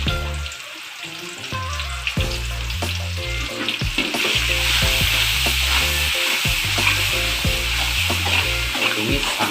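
Chicken ragout filling for risoles sautéing in a pan, a constant loud sizzle of frying with repeated scraping and knocking of a utensil stirring against the pan.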